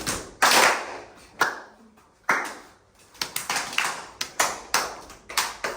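Hand claps during a group exercise, with a few sharp separate claps early on and then a quicker run of claps and taps near by. No one speaks.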